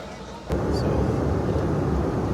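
Steady broadband roar inside an airplane cabin at departure on a flight to Istanbul, a loud continuous rumble starting abruptly and holding evenly with no speech.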